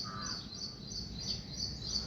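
Crows caw repeatedly on a cool morning around a leafy home garden: short, fairly faint calls come at regular intervals over a steady low background hum.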